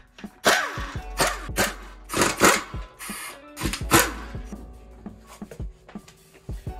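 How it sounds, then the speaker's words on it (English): On a Ford Mustang wheel, a 3/8 air impact wrench with a 21 mm socket rattles the lug nuts loose in several sharp, uneven bursts, each a short loud buzz with brief gaps between them. "So we got our 21 millimeter 3/8 on our 3/8 air impact."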